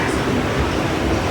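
A Kolkata Circular Rail commuter train runs near Bidhannagar station, its steady, loud low rumble and rolling wheel noise continuing without a break through the short stretch.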